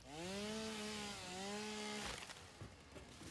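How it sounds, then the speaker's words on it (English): A chainsaw cutting wood in the Satisfactory video game: a harmonic motor whine revs and dips for about two seconds, then breaks into a rough, gritty cutting noise. "it looks like I'm gonna need my chainsaw"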